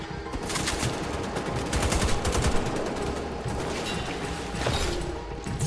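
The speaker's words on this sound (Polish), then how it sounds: "Strzelam trochę jako oszołom" Steady rapid gunfire in the shooter Wolfenstein: The Old Blood, a long run of clattering automatic bursts with mechanical weapon clicks, loud and close, going on without pause and with no speech.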